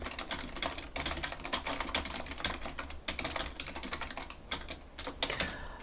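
Fast, continuous clicking of a computer keyboard as a listing is typed out, crisp close keystrokes in irregular bursts with brief pauses between words.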